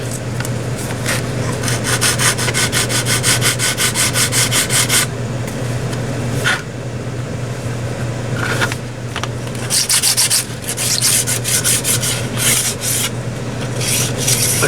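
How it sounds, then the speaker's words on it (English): Resin model aircraft part being sanded by hand, steady rapid back-and-forth scratching strokes up close with brief pauses between bursts, no voices. "This resin's pretty easy to sand."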